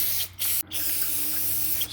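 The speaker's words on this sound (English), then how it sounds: "And then I just give a general spray around everything," Cleaner sprayed over a Troy-Bilt Storm carburetor, a loud continuous aerosol hiss broken by two brief pauses, close and alone.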